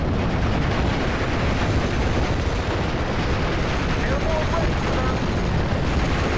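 Continuous, dense gunfire and artillery rumble from the World War II strategy game Steel Division Normandy 44, a loud unbroken wash of battle noise with no clear separate shots.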